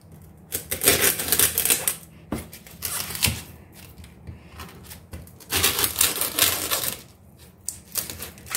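A hard, mature bitoon nut shell being cracked open, with sharp, dry cracking and crunching bursts in several clusters separated by quiet pauses, close and fairly loud.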